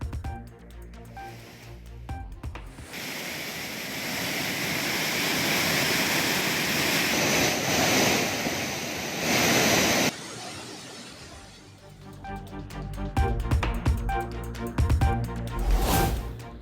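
Courtallam waterfalls pour in full flood after heavy rain, a dense, steady roar of rushing water lasting several seconds, with music before and after it.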